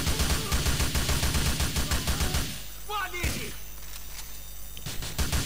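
Rapid bursts of automatic gunfire from a shootout in the video game GTA IV rattle loudly for about two seconds, followed by a quieter stretch with a few scattered shots and faint effects.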